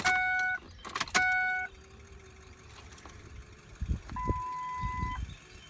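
A Ford Powerstroke diesel truck has its ignition key cycled, with dash chimes and beeps at the start, then a low electric fuel pump whirring faintly in the background alongside a few clicks and thumps.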